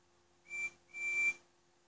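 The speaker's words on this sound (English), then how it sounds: "Then Fabian heard a whistle." A train whistle sounds in two short blasts, the second longer, fairly clear against a quiet background.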